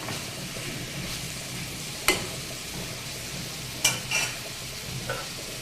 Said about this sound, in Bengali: শাকটাকে কিন্তু আমি একটু পরপরই নেড়ে চেড়ে দিচ্ছি